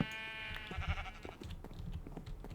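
Sheep bleating in the Minecraft modpack FTB Horizons, a harmonic wavering bleat up front followed by a busy stretch of game noise and thumps.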